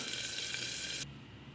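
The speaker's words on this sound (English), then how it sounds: "So let's cover and cook the cauliflower and wait for it to cook." Cauliflower cooks in oil in a covered pan, giving a bright, steady sizzle up close that suddenly drops to a soft, muffled hiss partway through.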